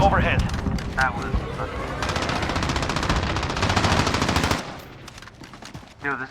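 Rapid automatic AK rifle fire rattles in sustained bursts in a Call of Duty Modern Warfare multiplayer match, loud and continuous before stopping abruptly, with players talking over it.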